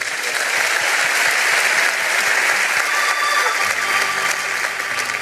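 A church congregation breaks into loud, sustained applause, dense hand-clapping that runs continuously throughout with a faint murmur of voices.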